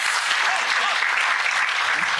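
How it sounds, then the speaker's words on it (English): Steady, dense applause from a summit audience in Kisumu as deputy governors and governors take their seats, filling the room evenly with no pauses. "let's give them a round of applause as they take their seats"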